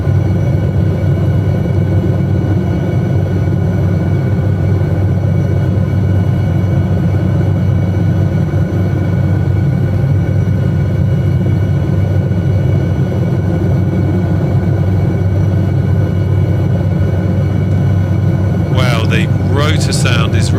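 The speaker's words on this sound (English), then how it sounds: "Rotor sound is really hammering my ears." SA315B Lama helicopter in flight over Lofoten, Norway: a constant loud rotor and turbine roar with a thumping low drone throughout, near and unbroken, ending with a brief higher-pitched sound.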